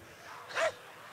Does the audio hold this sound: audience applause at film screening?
no